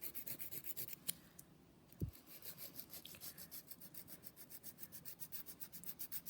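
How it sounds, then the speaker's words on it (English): A 180 grit nail file shapes the smile line of a nail in steady, close, quiet back-and-forth rasping strokes with a regular rhythm, heard alone without talk. "I'm using my 180 grit file, but you could go thinner and use your 240 grit file as well"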